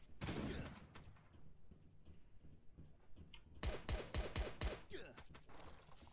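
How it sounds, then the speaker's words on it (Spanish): Several close shotgun blasts in the video game Last Day On Earth: Survival, a quick cluster of sharp thumping reports after an earlier shot, with game noise between them. "Vamos a probar la escopeta."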